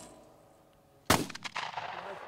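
A single loud gunshot cracks outdoors in the Montana hills, followed by rolling echoes and rattling tails that fade over a second.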